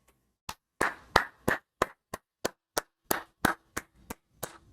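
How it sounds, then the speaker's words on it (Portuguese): A single pair of hands claps about a dozen times at an uneven, unhurried pace, each clap sharp, close and distinct, with short silences between them and no talking. "Palmas para o nosso monstro, palmas."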